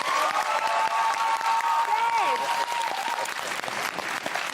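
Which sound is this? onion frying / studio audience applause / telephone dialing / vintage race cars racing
studio audience applause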